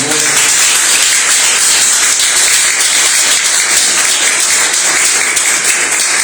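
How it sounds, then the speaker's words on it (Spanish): A church congregation applauds during a Spanish-language service, a loud continuous roar of clapping hands that stays dense and even from start to finish. "Démosle un aplauso al Señor por ese acto de amor."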